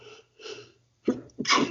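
A person sneezes close by during a tabletop game session: two soft preparatory inhales, then a sharp, forceful double burst of breathy noise, loud and abrupt.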